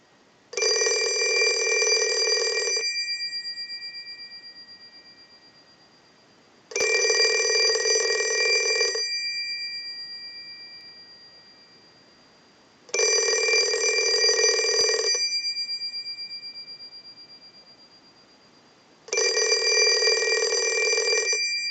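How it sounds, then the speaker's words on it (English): An Automatic Electric rotary dial telephone's bell rings in four long bursts of about two and a half seconds each, separated by quiet pauses, loud and steady with no voices. "send a ring cycle like you were getting a call"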